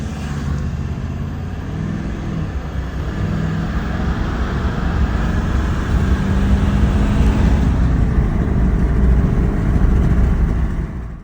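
A Ford F250 pickup with the 6.7 diesel and its stock intake accelerates, a deep engine drone building steadily louder over several seconds, heard alone with no talk.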